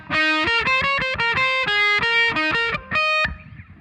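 Distorted electric guitar plays the main riff of a song, a quick run of sharp picked notes with a held note near the end, loud and alone with no talking.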